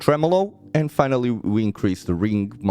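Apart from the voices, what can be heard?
No distinct noise like a dog, phone or traffic.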